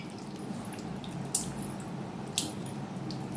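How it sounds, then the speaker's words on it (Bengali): Soaked tamarind being squeezed and mashed by hand in water for chutney pulp, a steady close wet squishing and sloshing with a couple of small drips, no voices. "চটকে নেব যাতে পুরো পাল্প আমার বেরিয়ে যায়।"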